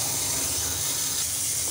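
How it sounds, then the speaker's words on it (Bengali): Tilapia fish curry broth boils in a pan, giving a soft, steady hissing simmer throughout. "দেখুন ঝোলটা খুব সুন্দরভাবে ফুটে গেছে।"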